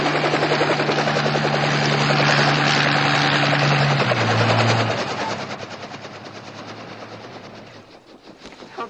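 A helicopter in a monster movie scene, loud and close with steady rotor chop, holding a droning tone that steps down in pitch, then fading and thinning out over the last few seconds.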